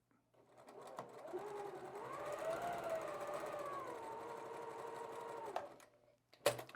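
A sewing machine stitches down a quilt block's fabric edge in one continuous run of about five seconds, its whirring motor rising slightly in pitch, close and fairly quiet, followed by a brief clunk.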